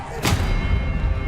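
A spell cast in the video game Hogwarts Legacy: one sharp, loud burst lands early and sits over a steady backdrop of low game rumble and hum.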